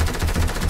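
Rapid suppressed SMG fire in a video game, a dense continuous burst of muffled shots lasting under a second, loud and up front.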